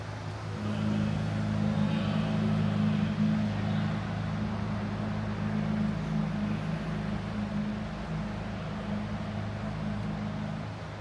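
A Mercedes G63 engine idles and creeps along in slow traffic, a steady low rumble with a constant hum that holds evenly throughout, heard from inside the car with no talking.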